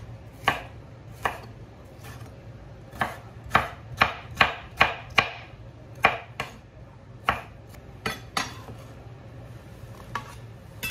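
A knife chops radish and tomatoes on a cutting board for a fattoush salad, with sharp, close wooden knocks that come in uneven bursts, some in quick runs and others spaced out, with no voices.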